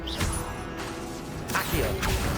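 The Incendio fire spell in the Hogwarts Legacy video game lets out short whooshing, crackling bursts among other game effects and faint mechanical clatter.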